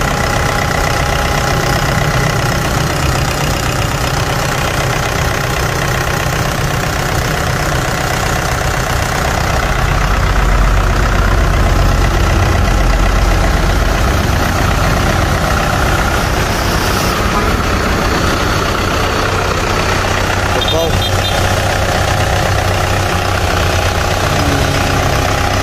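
Kubota M6040SU tractor idling with its hood open, a loud, steady, close engine rumble with a slight knocking beat that continues without a break.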